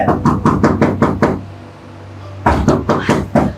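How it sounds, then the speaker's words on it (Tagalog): Knocking on a door comes as two bursts of rapid, evenly spaced knocks separated by a short pause, loud and close. "may kumakatok"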